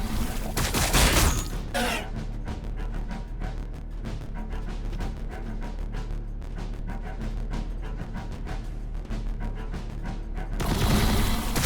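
Gunfire in Warhammer 40,000: Battlesector comes as a dense, loud fusillade of rapid cracking shots over a deep rumble, with heavier booming bursts at the start and the end.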